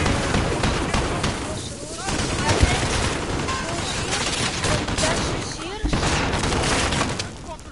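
Dense, loud automatic gunfire and bursts from a Call of Duty: Modern Warfare campaign mission pound almost continuously, with heavier booms mixed in and players' voices talking over the shooting.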